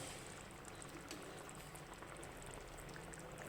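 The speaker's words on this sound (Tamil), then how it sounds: "இப்போ குழம்பு நல்லா 5 நிமிஷமாக கொதிச்சிருச்சு" Egg kulambu (egg curry) simmers in a pot, giving a steady, soft, continuous bubbling boil at low volume with no voices.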